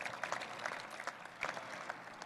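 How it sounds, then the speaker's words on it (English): Applause fills a 2014 Raymond S. Kellis High School graduation ceremony, a dense, steady patter of many hands clapping across a large crowd, continuing evenly with brief swells throughout. "that's worth a round of applause"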